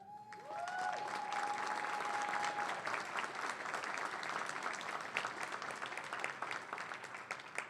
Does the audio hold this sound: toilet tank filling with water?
no